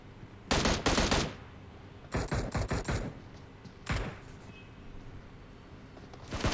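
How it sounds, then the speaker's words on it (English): Gunfire in PUBG Mobile during an esports grand final match, coming in several sharp rapid bursts of automatic fire separated by short pauses, with a final burst at the end and no talk over it. "Shots still being fired in this direction."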